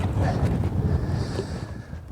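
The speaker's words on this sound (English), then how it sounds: "The wind's blowing across these points" Strong wind buffets the microphone in a steady low rumble on a windy lake point while bass fishing, with faint water and boat noise underneath, loud and close throughout.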